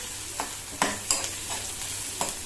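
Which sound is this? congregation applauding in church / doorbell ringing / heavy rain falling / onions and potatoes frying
onions and potatoes frying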